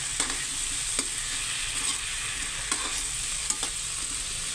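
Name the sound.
taro and shrimp cooking in a pan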